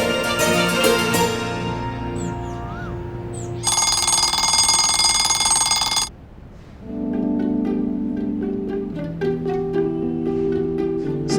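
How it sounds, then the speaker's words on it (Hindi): An early-morning alarm clock rings loudly in a home, a bright electronic jingle followed by a steady buzzing ring, then a quieter chiming pattern resumes. "इतनी सुबह का अलार्म क्यों लगाया भाई?"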